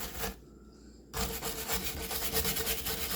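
Scraping crusty carbon and calcium-like deposits from a 2016 Mitsubishi Outlander intake manifold, a close abrasive rubbing and rasping that stops for a moment, then resumes in steady, uneven strokes.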